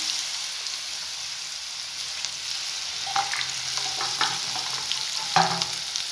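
Banana balls frying in hot oil, a steady close sizzle with a few sharper pops and crackles as pieces go in.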